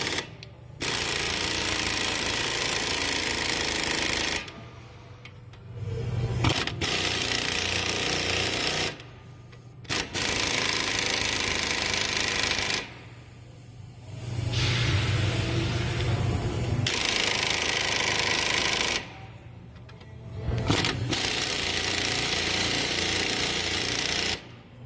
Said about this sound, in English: Hit it with a hammer a few times.